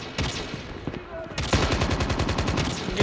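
Rapid automatic gunfire in the mobile shooter Call of Duty Mobile, a few scattered shots at first, then a sustained burst of evenly spaced loud rounds, close and dominant.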